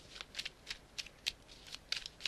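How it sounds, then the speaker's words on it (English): A deck of tarot cards shuffled by hand, soft close riffling bursts repeating in quick irregular rhythm against a quiet room. "Alright, so we shuffled the cards."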